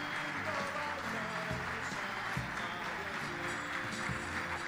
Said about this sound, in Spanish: Que no pare el aplauso para cada una de las entregas.